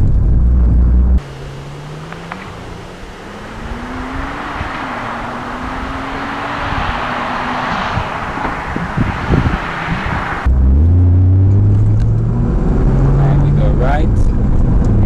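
A 2015 Nissan Juke R 2.0 heard from on board as it drives, the engine note climbing steadily under acceleration, then a sudden shift to a louder, deeper rising roar near the end.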